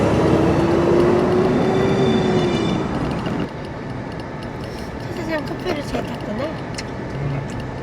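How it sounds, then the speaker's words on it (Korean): A train passes by in Kingman, Arizona, a steady low rumble with a long horn-like tone early on, heard from a distance under a family chatting outdoors. "The train passing over there, huh?"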